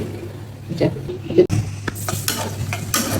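Sliced onions fry in oil for biryani beresta as a spoon stirs them, giving close scraping strokes and a knock against the pan over a continuous sizzle.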